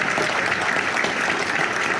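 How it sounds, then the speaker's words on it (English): A crowd at the 2022 GGA awards gala gives dense, sustained applause, many hands clapping at once, loud and even for the whole moment. "Round of applause all around."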